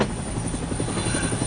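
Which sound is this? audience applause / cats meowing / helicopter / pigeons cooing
helicopter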